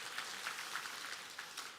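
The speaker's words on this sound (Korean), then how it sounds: "우리 박수로 환영하겠습니다" Church congregation applauding to welcome a newly registered member during a Sunday service, a steady soft wash of many hands clapping for nearly two seconds, faint and slightly distant, with no talking.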